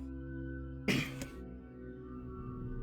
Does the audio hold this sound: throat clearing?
yes